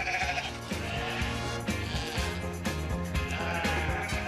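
Several sheep bleat over one another in repeated, wavering calls, close and fairly loud, with no talking.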